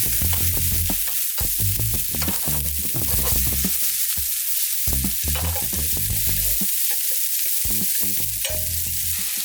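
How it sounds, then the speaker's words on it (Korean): Shrimp and onion stir-fry in a hot pan, with a steady loud sizzle and repeated scraping stirs of the utensil throughout. "그리고 새우를 넣어서 함께 볶아줍니다."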